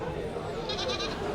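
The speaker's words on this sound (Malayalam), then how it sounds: "ഏകദേശം ഒരുപാട് ആടുകൾ." Goats bleating at the busy Chattiparamba livestock market in Kerala, a short wavering bleat rising over a dense crowd murmur and steady market chatter.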